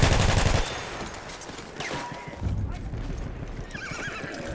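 A horse in a video game whinnies loudly up close, followed by clopping hooves and a second, fainter neigh.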